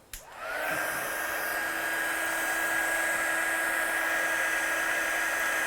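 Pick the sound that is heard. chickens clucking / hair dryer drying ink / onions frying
hair dryer drying ink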